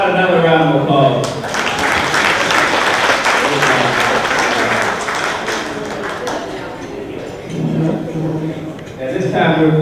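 Loud sustained clapping from a crowd for several seconds, with a voice speaking before and after it.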